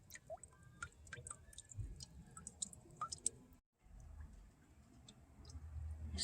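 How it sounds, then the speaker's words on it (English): Water dripping into small buckets in a Southern California garden among seedlings, scattered quiet plinks and ticks at an uneven pace over a faint low background, with a brief silent gap midway. "I like the sound of the water dripping into little buckets"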